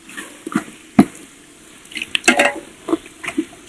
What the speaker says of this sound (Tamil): இப்போ ஒரு இரநூறு கிராம் இது வந்து அரை லிட்டர் தயிர் இதில் ஒரு பாதி ஊற்றிடுவோம்